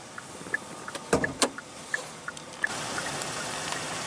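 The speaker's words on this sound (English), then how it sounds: "All windows are fully automatic." Power windows on a 2016 Kia Sorento with a 3.3 L V6 running, a sustained motor whir under light clicks and a couple of sharp mechanical thunks near the start.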